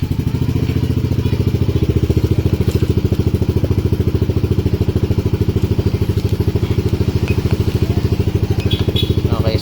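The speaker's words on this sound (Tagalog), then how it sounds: "Start natin yung engine." A Yamaha Nmax v2 scooter engine idles steadily and close by, a loud, even throbbing pulse that holds for the whole stretch without revving, with no voices over it.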